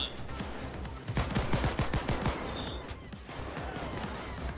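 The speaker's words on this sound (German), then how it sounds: "Also jetzt ein bisschen gezieltere Schüsse." Rapid gunfire in the video game Payday 2, dense bursts of automatic shots in a quick rattling rhythm, loudest in the middle stretch, with occasional single shots around it.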